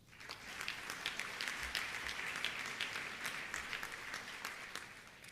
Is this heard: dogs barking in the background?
no